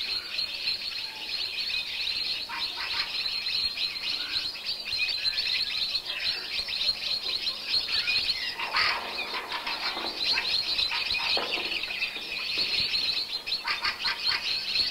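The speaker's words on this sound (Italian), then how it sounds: "il dialogo canoro degli uccelli diventa frenetico" Chaffinches and other small birds calling and chirping frantically around a decoy owl in an outdoor bird-trapping setting, with dense overlapping tweets, some wingbeat flutters and faint insect buzz, steady and fairly close throughout.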